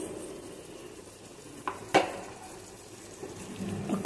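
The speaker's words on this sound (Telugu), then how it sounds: "చికెన్ ఉడుకుతుంది." Gongura chicken curry simmers in a pot with a soft, steady bubbling and sizzle, broken by a couple of brief utensil clinks against the pot.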